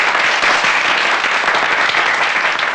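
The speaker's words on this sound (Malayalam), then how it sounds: "എല്ലാവരും ഒന്ന് കൈയടിച്ച്." Loud, dense applause from an audience at a college event rolls on in a steady, even wash of many hands clapping at once, close and full throughout.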